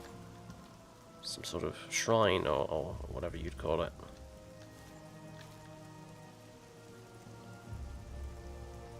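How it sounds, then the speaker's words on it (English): Steady rain falls in the video game Oblivion, a soft, even patter that runs throughout while someone talks over it for a few seconds. "Oblivion Reloaded makes the rain look a lot better than it was before"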